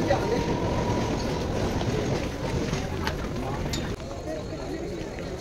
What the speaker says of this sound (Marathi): आली ना ट्रेन आली आहे।